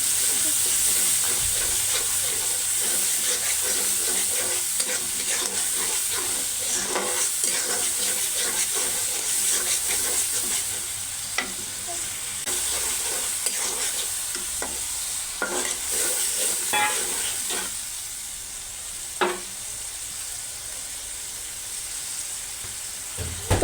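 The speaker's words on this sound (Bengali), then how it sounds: "তো এখন আমি ভালো করে কষিয়ে নেব।" Ground shrimp paste stir-fries in a hot pan for a spinach and shrimp dish, giving a steady, close sizzle and hiss with a spatula scraping and stirring throughout, with no talking.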